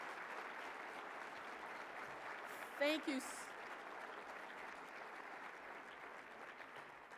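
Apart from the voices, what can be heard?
conference audience applause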